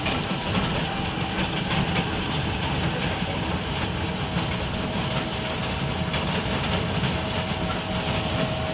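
An electric train on the Red Line rumbles steadily throughout, a continuous broadband roar of motor and rail noise heard from inside the car, with no talking.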